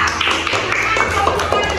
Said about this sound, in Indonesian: silakan berikan tepuk tangan dulu untuk kelompok 2